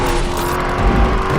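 A 2020 Chevrolet Corvette engine revs hard and loud close by, with a brief break in its pull partway through as it shifts gear, then carries on roaring steadily.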